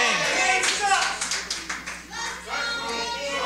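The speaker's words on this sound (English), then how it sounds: "Crowd trying to get Kane into this match early" A wrestling crowd at a live anniversary show claps in rhythm and chants, steady rhythmic claps rising through the middle of the clip amid a roar of many voices.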